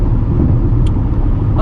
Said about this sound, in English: There's the rumble strips are handled by the car very well.